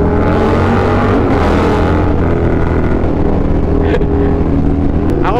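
A KTM Superduke 1290R motorcycle engine roars loud and close while riding, a continuous rough drone with shifting pitch and wind noise, a voice briefly heard over it.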